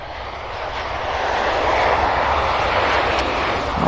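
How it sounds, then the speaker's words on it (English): An American Airlines regional airliner arriving from Philadelphia at Cincinnati's CVG airport swells into a loud, broad jet-engine rush that builds and holds steady, with no voices. "is American Airlines 5370 coming in from Philadelphia, Pennsylvania."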